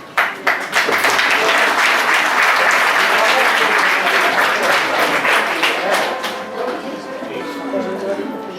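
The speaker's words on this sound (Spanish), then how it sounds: "Esperamos que nos acompañen con sus aplausos" An audience at a concert in a social centre for older people breaks into steady applause that fills most of the stretch and then thins out, with talk beneath it.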